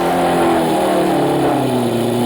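A West McLaren F1 GTR race car with a 640 hp McLaren BMW V12 engine revs hard at a Silverstone shakedown in 1995, a loud, close, continuous howl with shifting pitch.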